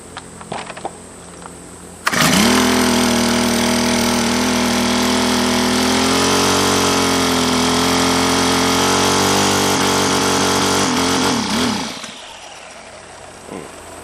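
A rebuilt Honda GX25 four-stroke engine at half choke fires up after a quiet start, runs at a loud, steady buzzing drone for about ten seconds with slight speed wobbles, then cuts out.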